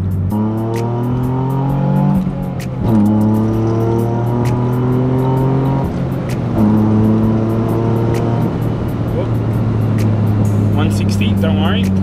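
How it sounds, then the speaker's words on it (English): A Nissan 350Z convertible sports car is driven on a private road, its engine revving up in strong rising sweeps, dropping at each gear change, then climbing again, loud and close. "Now that the car was all finished, you have to take it for a drive."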